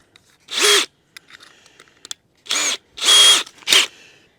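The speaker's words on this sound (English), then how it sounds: "Go with the next biggest drill bit." A power drill with a larger bit whirs in several separate bursts, each a second or less, while building a storage compartment on a tiny house, with quiet clicks and handling noises between them.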